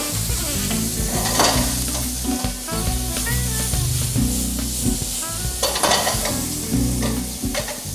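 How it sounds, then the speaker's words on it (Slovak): Diced root vegetables, parsley root and carrot, fry in a pan, with steady crackling sizzle under repeated scraping stirs and clatter of a utensil against the pan, close and loud. "Medzi tým, kým sa nám to smaží"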